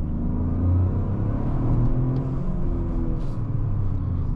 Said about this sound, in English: I like the sound of this 3-cylinder turbo engine, and that turbo noise is hilarious.